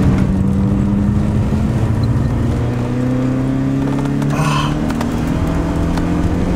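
A BMW 318is engine drones steadily at high revs while driving on an open road, its pitch creeping slowly upward in a loud, continuous in-car roar.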